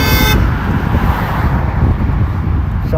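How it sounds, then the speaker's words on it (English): A car horn blasts briefly at the start over steady loud roadway traffic noise, heard close by outdoors beside a road. "Somebody just honked at me."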